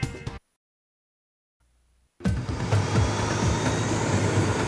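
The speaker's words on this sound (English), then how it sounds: "Nevada's first and only news helicopter broadcasting live in the stunning clarity of high definition" After a brief sound and a silent gap, a steady loud whirring roar of a news helicopter sets in and holds, like a helicopter passing near.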